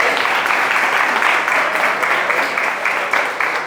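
Steady audience applause for a volunteer at a gospel preaching event in Brazil, dense even clapping close and loud throughout, with no break.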